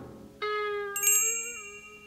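A bell chimes in the video game The Night of the Rabbit: a bright ringing tone enters, then a higher shimmering chime layers over it and slowly fades, clear and close with no talk.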